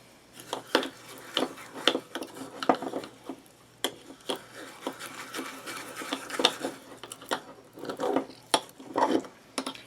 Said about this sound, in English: a fork for mixing because then you can kind of squish the clumps of sugar and coconut oil around